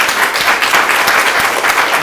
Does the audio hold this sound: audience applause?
yes